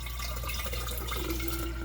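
Filtered water pours steadily into a half-gallon jar holding sugar, giving a continuous close rushing splash with no breaks.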